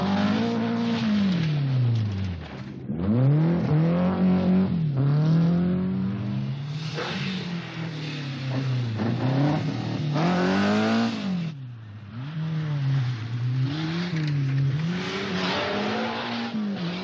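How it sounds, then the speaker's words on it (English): Rally cars, including a Datsun Stanza, leave a start control one after another: loud, close engines rev hard through the gears with rising and falling pitch sweeps, tyres squealing, continuous and alone without talk. "The cars are let out of start controls 1 minute apart"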